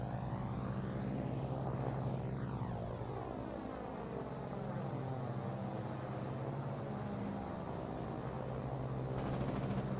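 A propeller airplane lands on a runway in the video game Foxhole, its engine droning steadily and loudly throughout, with shifting pitch sweeps as it comes down.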